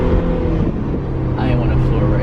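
A BMW M4 accelerates at full throttle, its engine a loud, steady roar that fills the whole moment at close range.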